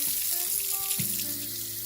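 A kitchen tap runs into a sink during chicken prep, a steady close rush of water with a small shift in tone partway through, and no talking.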